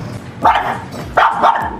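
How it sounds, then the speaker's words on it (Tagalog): Shih tzu dogs barking during play, two bursts of sharp, fairly close barks with a short gap between them and no talk. "ipapakita ko sa inyo yung kulitan ng aking mga alagang aso"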